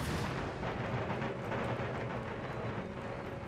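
Round shot fired by artillery in Empire Total War booms in a continuous, distant rumble of cannon fire that rolls on and merges with battlefield noise, steady throughout with no pauses.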